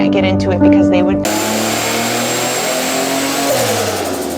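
A turbocharged Ecotec engine in a ute drift car revs hard with a slight misfire, a loud steady engine drone that rises briefly, with voices heard over it near the start.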